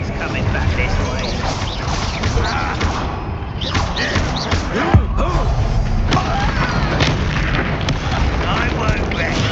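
Spells fired in combat in Hogwarts Legacy make repeated heavy booms, thuds and crashing impacts over a dense, busy battle backdrop, with voices occasionally mixed in.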